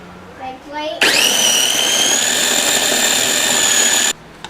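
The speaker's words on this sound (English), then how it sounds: "Alright, so we've got everything in our food processor." A food processor whirs steadily for about three seconds, blending fava bean dip with Greek yogurt, dill, salt, black pepper and lemon juice. It starts abruptly after a brief stretch of voice and cuts off sharply.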